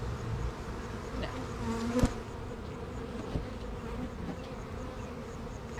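Honey bees drone around a hive in a continuous close buzz, with individual insects passing by the microphone and a brief knock partway through.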